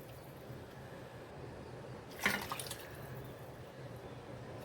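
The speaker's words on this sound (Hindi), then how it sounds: "अब हम इसमें डालेंगे 2 कप पानी।" Water is poured into a pot to boil paratha dough ingredients, a short burst of splashing pouring in a home kitchen, with low background hum and no talk.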